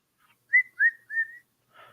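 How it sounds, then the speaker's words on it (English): Someone whistles three short, clear rising notes in quick succession, close and alone in quiet surroundings. "That's good whistling."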